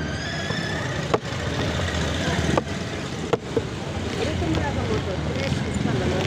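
A motorcycle ridden on the road, carrying a passenger holding an umbrella. A steady rumble of engine and wind noise continues throughout, with a few sharp thumps along the way.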